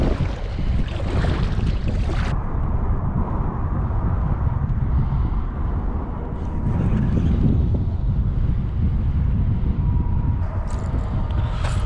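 Gusty wind on a lake buffets the microphone from a fishing boat, a low roaring rumble that swells and eases in waves, with faint water and boat sounds underneath.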